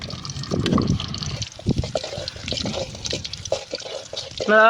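Green chilies hit hot oil in a pan for a chicken kulambu, giving a steady close crackling sizzle with bursts of spitting and a brief clink near the end.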